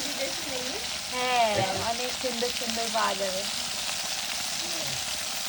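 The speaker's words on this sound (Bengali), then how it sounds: "ফার্স্টে চুনো মাছগুলো ভিজে ভেজে নিচ্ছ" Small chuno fish fry in a pan with a steady, close sizzle, while a woman and another person talk over it.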